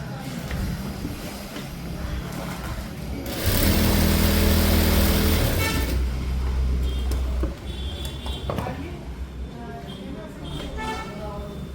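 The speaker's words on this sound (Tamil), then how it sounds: "இப்போ வந்து நான் ஸ்டிச் பண்ணி காட்டுறேன்" A sewing machine stitches a blouse sleeve, a close, loud motor whir running for a few seconds in the middle, with someone talking before and after it.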